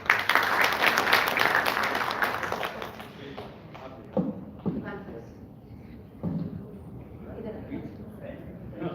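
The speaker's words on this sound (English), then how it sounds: "Huge round of applause for Vijay and his parents." Audience applause at an achievers meet, loud dense clapping that fades after about three seconds into scattered claps and thumps while voices carry on.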